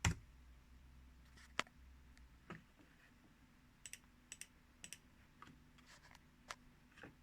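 Keys tapped on a computer keyboard while entering a command at a Windows Subsystem for Linux prompt, a handful of quiet, sparse clicks with a short burst of keystrokes near the end, in an otherwise hushed room.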